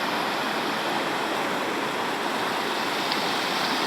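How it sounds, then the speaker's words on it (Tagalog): Strong current of the Mayhay River rushing past as a dense, loud, continuous broadband roar of churning water, steady and close throughout with no voices. "nakakatakot ang agos ng tubig na yan"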